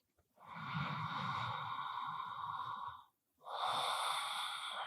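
Deep, slow breaths during a gentle yin yang yoga session, one long airy exhale of nearly three seconds followed after a brief pause by another breath, close and soft with no talking.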